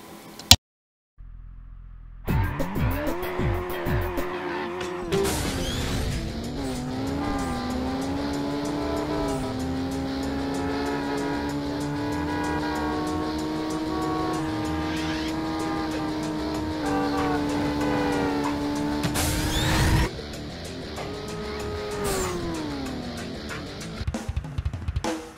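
Racing cars in a Burnout 2 replay roar through a long engine drone with shifting pitch, tires squealing as they drift, ending in a sudden loud burst before the engine note resumes.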